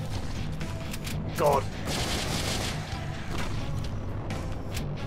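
Pistol gunfire in the co-op zombie survival game Final Days, a run of sharp, closely spaced shots under continuous talking.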